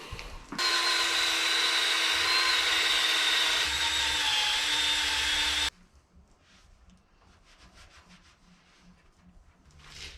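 A power sander works over a truck rear axle to strip off grease, a loud, steady high whine that holds for about five seconds, then cuts off and leaves faint scraping and rubbing sounds.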